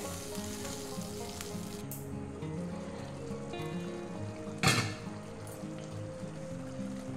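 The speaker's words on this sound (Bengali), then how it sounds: "এতে কাজু আছে, সবসময় নাড়তে হবে যাতে না তলায় লেগে যায়" Cashew masala with onions fries in a pan under a continuous close sizzle, while a spatula stirs it and makes one louder scrape partway through.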